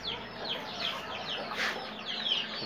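Breeding hens of the Índio Gigante, Brahma and Criollo Paraguaio breeds cluck and chatter softly in a poultry pen, a steady murmur of overlapping calls at moderate distance with light background noise.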